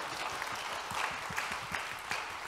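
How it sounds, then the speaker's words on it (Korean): Audience applause fills a conference hall at a talk on culture and technology for future education, a steady dense patter of many hands clapping at moderate volume with no voices over it. "보통 이런 박수 나오죠?"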